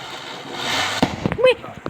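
Firecrackers burst at a Vishu celebration, a few sharp cracks and pops near the end following a swell of noise, with voices briefly audible.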